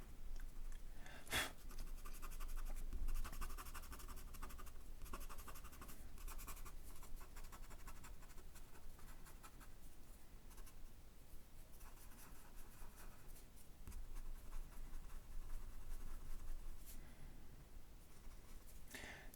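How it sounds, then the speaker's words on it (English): A Faber-Castell eraser pencil rubbing on paper during a landscape drawing, a faint, steady scratchy scrubbing that runs on with small shifts in strength throughout. "This is the eraser pencil."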